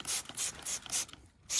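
Repeated quick hissing bursts from a spray bottle misting cleaner onto an RC car, four close squirts in a rhythmic pattern with a short pause before the last.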